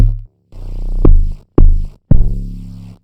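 Amapiano log drum programmed in FL Studio, playing a few deep, booming bass hits with sliding pitch, loud and close, separated by short silences.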